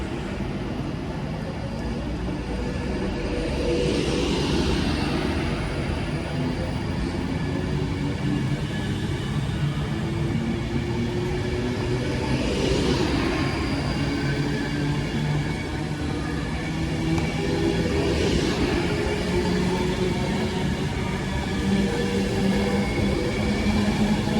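A Class 390 Avanti West Coast train, running from London Euston to Edinburgh Waverley, passes a station at speed with a steady rushing roar and overhead whine that holds for the whole stretch, moderately loud and without talk.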